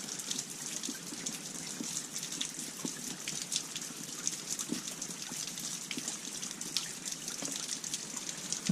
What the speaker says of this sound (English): And slowly but surely, we'll be getting some water.